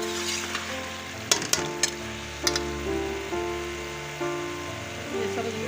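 Sweet gourd (tori) curry sautés in a pan with a steady sizzle and frying crackle, broken by a few sharp clicks and stirring knocks.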